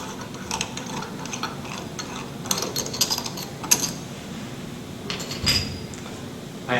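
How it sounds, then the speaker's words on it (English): Separating screws on a direct shear test apparatus being turned a quarter turn each, giving small metallic ratcheting clicks and ticks in short clusters, close and fairly quiet, with no talk. "I have to turn each of my separating screws about a quarter of a turn."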